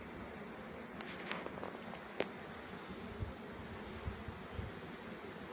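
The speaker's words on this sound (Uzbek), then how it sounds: "Ari talashni boshladi bizga." Honeybees buzzing at close range during a May honey harvest, a steady hum with scattered brief louder passes and faint rustling, no voices.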